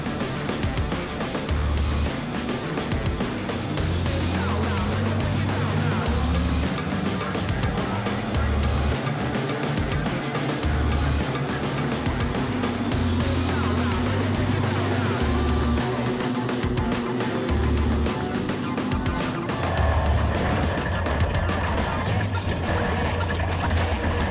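Six-cylinder wingless sprint cars race at the Australian Wingless Sprint Championship, their engines a loud, continuous roar with pulsing low rumbles that swell and fade as cars pass, set against a noisy speedway crowd.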